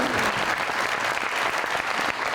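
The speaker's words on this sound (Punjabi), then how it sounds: "ਤੁਸੀਂ ਚਾਹੁੰਦੇ ਹੋ ਕਿ ਤੁਹਾਡੇ ਵਾਸਤੇ ਤਾਲੀਆਂ ਵੱਜਣ?" A studio audience at a Pakistani television talk show applauds with steady, dense clapping that stays at an even level throughout, with no talk over it.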